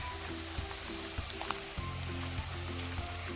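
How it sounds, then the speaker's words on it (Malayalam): Waterfall at Kudayathoor in Idukki, a steady, hissing rush of falling water heard from a short distance, overlaid with continuous background music. "സോ ഇതാണ് ഞാൻ പറഞ്ഞ വെള്ളച്ചാട്ടം."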